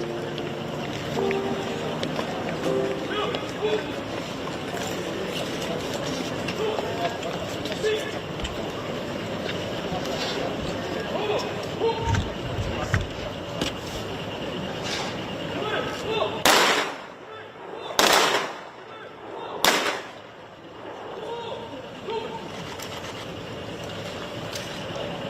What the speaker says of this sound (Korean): 지금부터 조총 사격 후 고인에 대한 공격을 실시하겠습니다.